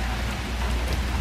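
Steady rain falls without pause, a dense wash of drops on a surface with a low rumbling undertone.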